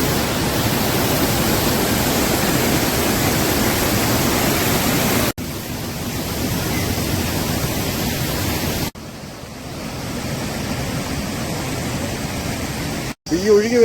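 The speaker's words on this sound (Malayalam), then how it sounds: "ഈ ഒഴുകി വരുന്ന നദി ഉണ്ടല്ലോ" River water from Mullaperiyar rushes past as a loud, continuous broadband roar, cut by a few abrupt breaks in the sound.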